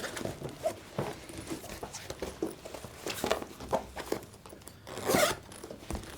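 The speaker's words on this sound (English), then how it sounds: "once I zipper this" A zipper is drawn closed on the fabric hood of a GVM TQ-L teleprompter for tablets and smartphones, with light handling rustles and a brighter, louder zip run near the end, close up and with no talk.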